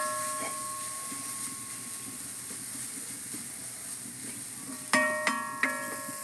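Steady dry sizzling and scraping of grated coconut roasting in a pan, with a few sharp metallic clinks of a spatula near the end.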